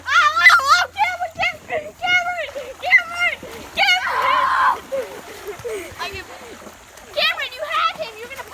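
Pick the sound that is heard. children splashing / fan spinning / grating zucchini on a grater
children splashing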